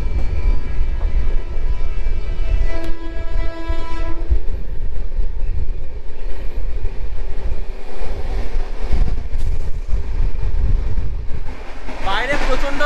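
A passenger train moves along the line just past Jalandhar, heard from aboard as a loud steady rumble and clatter of wheels, with a horn sounding early on and voices talking over the noise.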